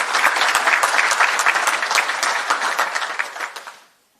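A full room of people applauds a provincial agriculture minister at a public announcement, steady and dense clapping that gradually thins and dies away near the end.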